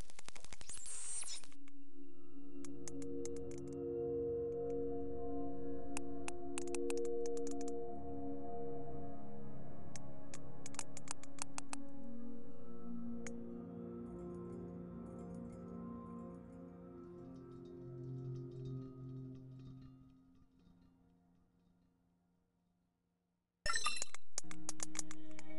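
Sonar-style target pings from the underwater video game Beyond Blue, a series of bright chiming tones over a low droning ocean ambience that fades out, then a sharp burst at the end.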